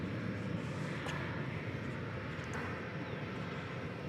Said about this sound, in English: American Flight 2312 to San Antonio, Texas, a 737-800.